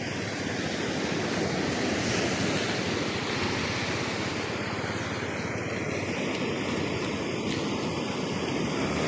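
Rough sea and wind rushing past a moving boat on the way to Kamalu Island off General Nakar, Quezon: a continuous loud roar of waves, spray and buffeting wind noise on the microphone with no pause throughout.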